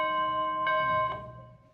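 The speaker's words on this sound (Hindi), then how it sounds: "घंटी बजता है ऐसे, है ना।" A single bell rings clearly with sustained harmonic tones, struck again twice in quick succession before the ringing decays into quiet.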